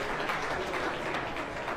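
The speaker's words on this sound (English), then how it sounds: "A huge round of applause to our judge, Mr. Gavin Robertson" An audience at a dog show, the Eukanuba Champion Stakes, applauds the judge, a steady, fairly dense patter of clapping from a crowd, sustained and even for under two seconds.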